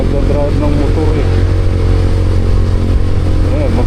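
A motorcycle engine runs steadily nearby with a low, continuous drone and slight shifts in pitch, and people talk over it throughout.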